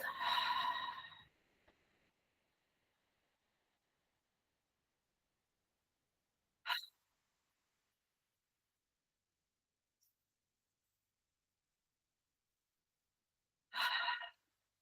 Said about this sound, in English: 3 or 4 deep inhalation and exhalation.